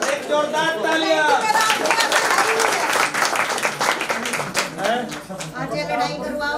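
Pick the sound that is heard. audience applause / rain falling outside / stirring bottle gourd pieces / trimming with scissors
audience applause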